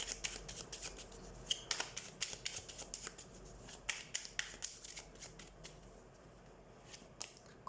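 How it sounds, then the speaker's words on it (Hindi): Tarot cards being shuffled by hand during a card reading, a steady run of crisp riffling and flicking bursts repeating close up, fairly quiet with no talking. "सबसे पहले हम कार्ड शफल कर लेते हैं।"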